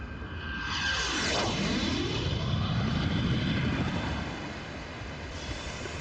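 A military jet, such as an F-35 or F-22, roars past in a loud rushing flyby that rises to a peak and then slowly fades.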